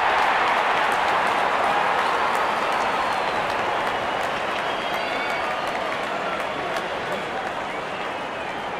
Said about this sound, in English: the crowd cheering in anticipation